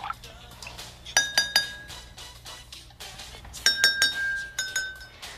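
Drinking glasses partly filled with water are struck with a spoon in quick clusters of bright clinks, each leaving a short ringing pitch, repeated in several groups, close and clear over a faint background hum.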